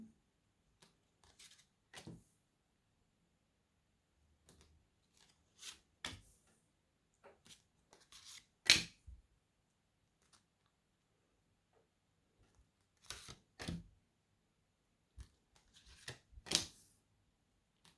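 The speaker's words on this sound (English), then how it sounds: "I'm going to pull 4 tarot cards to clarify" Tarot cards are shuffled and pulled in soft, scattered bursts of papery flicks and taps, close and quiet, separated by silent pauses.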